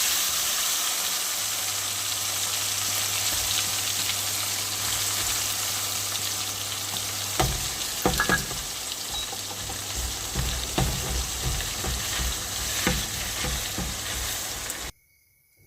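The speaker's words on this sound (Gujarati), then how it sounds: "પહેલાં તેલ નાખ્યું છે હવે એમાં ચટણી નાખશું" Chutney sizzles steadily in hot oil for a Kathiyawadi vagharela rotlo, with a constant loud frying hiss, some stirring clatter partway through, and an abrupt stop at the end.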